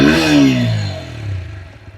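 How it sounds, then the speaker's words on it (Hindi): A TVS Apache RTR 160 4V motorcycle exhaust revs up sharply and then falls back to idle, with a rising then falling engine pitch. The exhaust is close, loud and heard on its own. "भाई आपने इसका एग्जॉस्ट सुन लिया"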